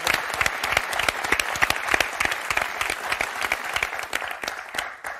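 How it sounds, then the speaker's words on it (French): A television game-show studio audience claps loudly and steadily for several seconds, with distinct individual hand claps standing out from the continuous applause. "on vous applaudit très très fort."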